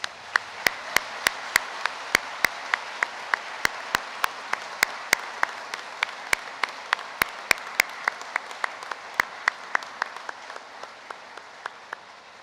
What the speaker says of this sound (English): stand up and with a warm round of applause, join me in thanking your family and friends